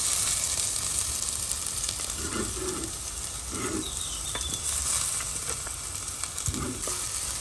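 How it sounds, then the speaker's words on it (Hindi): Chopped medium onion hits hot oil for a spicy Goan crab xec xec, producing a continuous loud sizzle with a few faint coo-like bird calls in the background. "अब डालेंगे कटा हुआ प्याज।"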